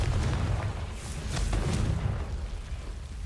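A Confringo spell explodes in the Hogwarts Legacy video game, a loud, rumbling burst with deep booming energy that rolls on for several seconds, with sharper crackles layered over the rumble.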